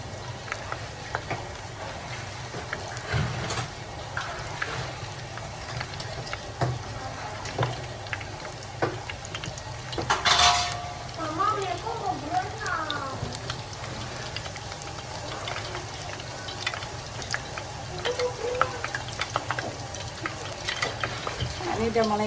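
Salted fish fries in hot oil in a pan, giving a soft, steady sizzle and crackle with occasional pops and stirring clinks throughout.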